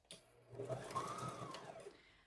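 A domestic sewing machine runs one steady burst of topstitching along a fabric seam for a pocket, close and continuous with a whirring motor note.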